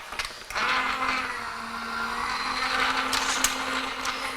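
Die-cutting and embossing machine cranking a 3D embossing folder through with a deep-pressure plate sandwich, giving a steady, fairly loud mechanical whir and grinding that starts after a brief pause and runs on without talk.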